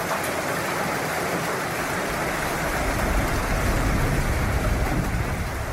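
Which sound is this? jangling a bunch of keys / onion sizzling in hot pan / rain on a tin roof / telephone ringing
rain on a tin roof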